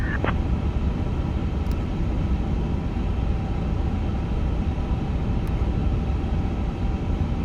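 Airliner engines of a Starlux A350 idling at Taipei Taoyuan airport in Flight Simulator 2024, a steady broadband rumble and hum that runs continuously at a constant level, with a couple of faint brief clicks over it.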